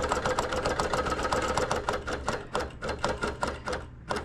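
A quilting sewing machine runs steadily while stitching through a quilt, a fast rhythmic mechanical chatter of repeated needle strokes over a motor hum, close and continuous with a slight slowdown near the end.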